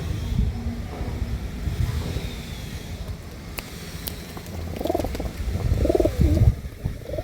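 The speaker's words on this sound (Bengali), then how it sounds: "দেখুন বন্ধুরা পায়রা ফুল অ্যাক্টিভ পায়রা, দেখুন পায়রা দেখতে পাচ্ছেন" Pigeons at a pigeon sale in Hooghly give low, rolling coos, rising in the later seconds, over rustling movement and some wind buffeting on the microphone; no speech.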